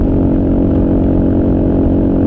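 A Kawasaki KLR motorcycle engine cruising at about 80 mph and 5,500 RPM on the highway, a loud, steady, unbroken drone with wind noise and no pauses or speech.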